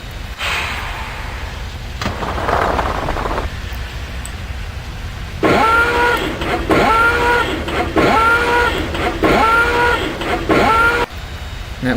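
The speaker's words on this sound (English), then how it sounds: "That was the sound of the reverser" The reverser of a CP Royal Hudson 2860 steam locomotive in the Open Rails train simulator clanks and ratchets in a run of five or six evenly spaced, sharp metallic strokes, loud and close, after a quieter rumbling stretch.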